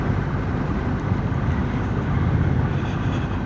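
A Honda CMX1100 DCT motorcycle rides slowly, a steady low rumble of engine and road noise with wind, moderately loud and continuous.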